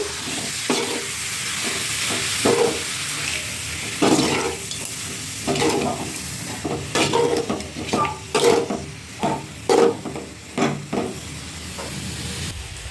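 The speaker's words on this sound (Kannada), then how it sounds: "ತುರಿದಿಟ್ಕೊಂಡು ಬೀಟ್ರೂಟ್ ಹಾಕೋತಾ ಇದ್ದೀನಿ. ಹಾಕ್ಕೊಂಡು ಮಿಕ್ಸ್ ಮಾಡ್ಕೋಬೇಕು." Grated beetroot and frying onions are stirred in a pan, with a steady sizzle under repeated close scraping strokes that come in uneven bursts.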